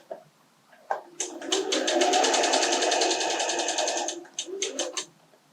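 A sewing machine fitted with a quarter-inch foot stitches seams for a log cabin quilt square, short starts then a sustained rapid mechanical whir of about three seconds, followed by a few brief bursts, no talk.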